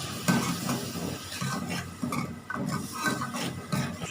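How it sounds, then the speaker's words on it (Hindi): Spice masala with a splash of water being fried in a pan, a low bubbling sizzle under repeated scraping strokes of a spoon against the pan, close and steady, no talk. "और इसकी भुनाई करेंगे 2 से 3 मिनट अच्छे तरीके से।"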